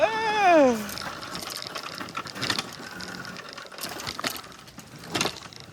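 A Tuttio Soleil01 electric dirt bike motor whines under throttle while riding through roots, opening with a sharp tonal whine that sweeps downward, then continuing as a rougher, uneven drive noise with scattered knocks and bumps.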